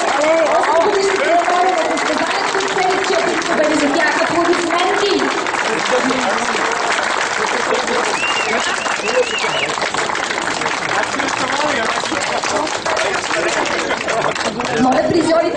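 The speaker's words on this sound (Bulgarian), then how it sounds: "Аплодисменти за тях" A crowd at the awards ceremony of a rally won in a Skoda Fabia applauds the winners, with loud steady clapping blended with chatter and voices throughout.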